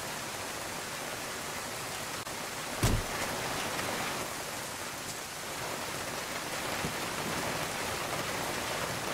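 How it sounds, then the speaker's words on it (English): Heavy downpour of rain in a survival horde video game, a steady dense hiss of rainfall filling the whole clip, with one brief louder knock or crack near the three-second mark. "Oh my god, and now it has to be a downpour actually."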